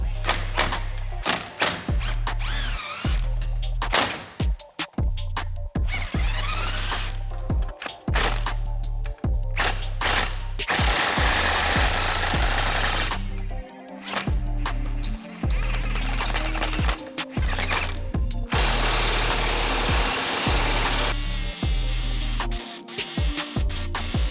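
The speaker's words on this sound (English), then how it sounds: "I do prefer to go ahead and use the air hammer" Rapid bursts of air hammer pounding on a 2012 Subaru Forester front wheel bearing, loud and close, broken by short pauses and hissing air between runs.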